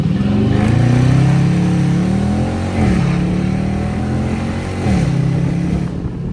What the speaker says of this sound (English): Activating launch control, 1700 RPMs.